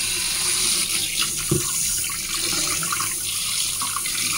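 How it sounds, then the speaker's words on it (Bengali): Fish being washed in a kitchen sink under a running tap, with a steady broadband rush of water and a few soft splashes and knocks as the fish are handled, close and continuous with no talk. "তো চলো এখন মাছগুলো ধুয়ে নিই ভালো করে।"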